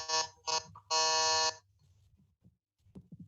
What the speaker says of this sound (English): Did you receive my buzz?